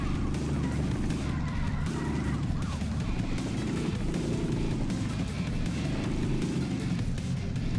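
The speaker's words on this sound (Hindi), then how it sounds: "सिर्फ गाड़ी का आवाज सुनो, मैं भी कुछ नहीं बोलूंगा।" A car engine roars steadily in the Smashy Road: Wanted 2 video game during desert gameplay, a loud continuous drone with rising and falling revs throughout.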